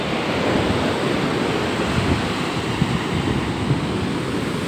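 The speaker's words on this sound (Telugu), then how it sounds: "ఈరోజు అలలు ఎక్కువ వస్తున్నాయి" Ocean surf rolling onto the beach at Addaripeta, a dense, continuous roar of breaking waves close by, steady and loud with no voices.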